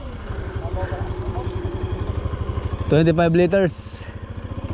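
A small motor on a power sprayer runs steadily with a fast, even putter throughout, while people talk over it and one voice rises briefly.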